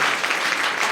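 Students in an English coaching class in Motihari clap together, a dense burst of loud applause that holds steady throughout.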